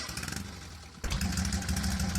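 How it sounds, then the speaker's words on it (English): In the VRChat game, a car's two-cylinder engine starts up. After a second of soft, rhythmic chuffing, it catches with a sudden louder burst and settles into a steady running rumble. "But we'll start the engine."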